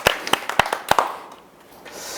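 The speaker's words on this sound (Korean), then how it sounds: "박수 한번 주세요." A handful of people clap in sharp, separate strikes, loud and close for about a second before the sound thins out into quiet room tone.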